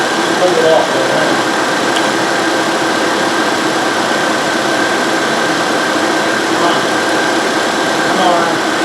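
A 2010 Nissan Altima with its 2.5-liter engine idling under alternator load, with the AC and cabin fans on full, gives a steady, even hum and whir that holds a constant level throughout.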